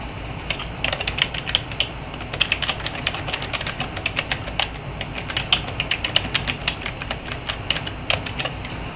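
Someone types a comment on a computer keyboard, producing rapid, irregular clicking keystrokes close by that run steadily throughout with no talking.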